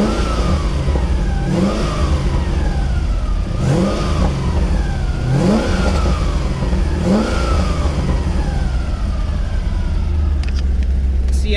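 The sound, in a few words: FRC Corvette compressor whine while driving, like a roots supercharger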